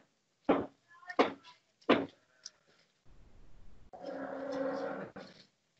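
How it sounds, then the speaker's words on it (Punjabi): A pregnant Holstein Friesian dairy cow at a farm in Ropar, Punjab, lets out three close, loud moos in quick succession, followed by softer shuffling and a steady rustling background. "ਇਹ ਗਾਂ ਦੇਖੋ ਜੀ"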